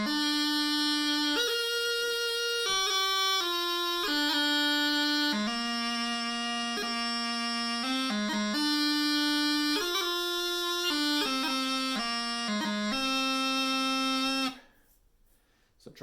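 Scottish Great Highland Bagpipe playing a slow, clean tune section with grips, a steady drone under the melody and quick grace-note flourishes between sustained notes, then the sound drops away at the end.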